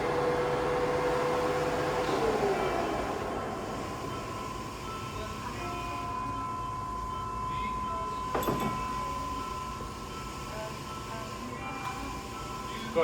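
A 2009 Summit 16x60B engine lathe spins at its 800 RPM high-speed setting, giving a steady mechanical hum with sustained tonal whine and broadband rumble, and one sharp transient near the end.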